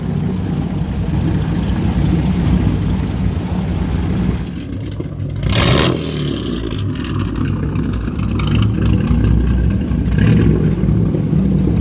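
Old Bentley Blower race car at the Nürburgring Classic, a deep engine burble idling and revving nearby, with a sharp burst partway through over a busy outdoor background.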